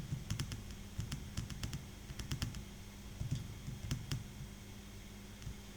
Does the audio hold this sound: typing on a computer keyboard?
yes